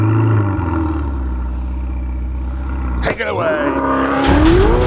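Ferrari 488 driving a lap of a racetrack, its engine droning loud and steady before a sharp gear change and a rising, high-pitched rev that swells near the end; a voice speaks briefly at the start.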